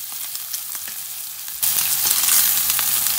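Bacon strips fry close up in a pan with a constant crackling sizzle that jumps suddenly louder and brighter halfway through, with no talking.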